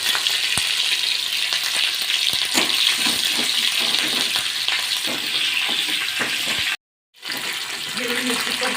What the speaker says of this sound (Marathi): थोडीशी मोहरी घालूया, जिरं, हिरवी मिरची घालूया